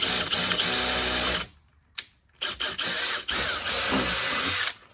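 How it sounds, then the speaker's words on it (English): A power drill bores through a Polaris RZR rear fender extension, a loud close whine in two long stretches separated by short stops and brief bursts of the trigger. "we're gonna drill the 3rd and final hole"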